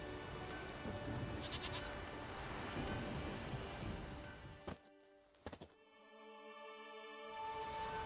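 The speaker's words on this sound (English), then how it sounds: "There's no point standing here in the rain." Steady rain pours in the video game The Witcher 3, a dense hiss filling most of the scene before thinning out, with a few brief thuds and a bleating sheep nearby.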